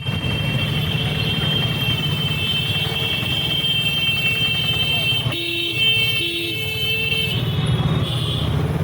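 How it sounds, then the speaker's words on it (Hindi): A vehicle horn honks repeatedly in city traffic behind a moving motorcycle, short toots rising over steady engine and road rumble, with brief pauses between bursts. "काफ़ी देर से हॉर्न मार रहा है।"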